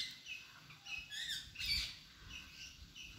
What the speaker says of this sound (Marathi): बघा इथे खूप पोपट आहेत.